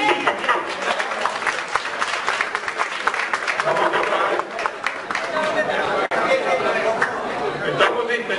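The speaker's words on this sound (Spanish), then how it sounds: "Pido un aplauso para los estudiantes que han estado detrás de este evento" Crowd applauding students at a peace-building gathering of social organizations in Colombia, a steady wash of clapping mixed with loud chatter and voices throughout.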